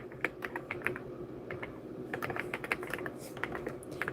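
Steady, fast clicking of keys on a computer keyboard, close and continuous with irregular bursts of keystrokes and no talking.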